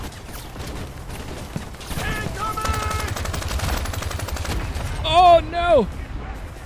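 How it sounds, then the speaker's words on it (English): Incoming mortar fire in Crime Boss: rumbling explosions and gunfire build over several seconds, with a voice calling out in alarm and tonal game sounds near the end. "Oh no, we got mortars. Incoming!"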